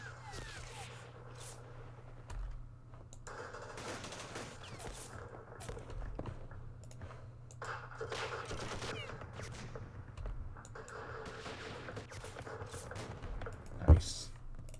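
Units open fire in the Vietnam wargame Campaign Series Vietnam, a scatter of short gunfire bursts and clicks over a steady low hum, ending in one sharp loud crack, with talking throughout.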